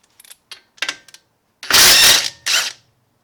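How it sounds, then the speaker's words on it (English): A hand ratchet clicks in short bursts while loosening the front strut bolts on a Volvo S60R, with an 18 mm socket. A few quick clicks are followed by two louder, longer grinding pulls, close and alone. "So, ratchets in reverse,"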